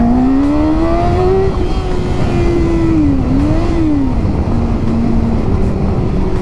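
A motorcycle engine while riding, loud and continuous, its pitch climbing, dipping and rising again as the rider shifts and accelerates, with wind noise underneath.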